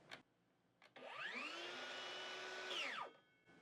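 Hyper Tough 20 volt brushless 6 1/2 inch circular saw on a 2 amp hour battery spins up and cuts, a steady rising whine for about two seconds, then winds down with a fast brake, heard alone.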